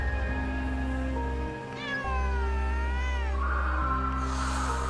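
A video game cat meows in a long, wavering cry over a steady electronic hum, with a softer second meow near the end.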